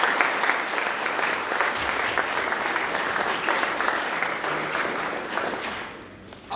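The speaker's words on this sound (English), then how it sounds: "Let's give them a round of applause for that." Sustained audience applause at a school presentation night, a dense steady clatter of many hands holding at an even level before fading away near the end.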